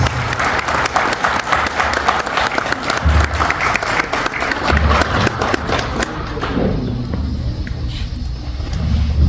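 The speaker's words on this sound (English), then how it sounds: "I would like us, please, with a round of applause, to welcome Honorable Premier Ministre Danielle Smith for her opening remarks." Audience at a Central African community gathering in Alberta applauding to welcome a speaker, steady loud clapping that fades toward the end.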